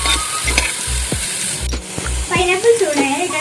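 Pineapple pieces sizzle in a hot pan while a spoon stirs them, with steady frying hiss and rhythmic scraping knocks near the mic, and a voice speaking over the later part.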